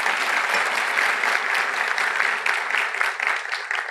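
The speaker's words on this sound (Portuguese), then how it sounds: "Por favor, uma salva de palmas." Conference panel audience at CertForum 2023 gives a sustained round of applause, with steady, dense clapping from a sizable crowd at fairly close range.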